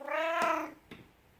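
A domestic cat gives one long, loud, close meow, followed by a soft thump and then quiet.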